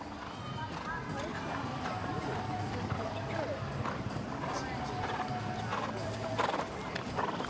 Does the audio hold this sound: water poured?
no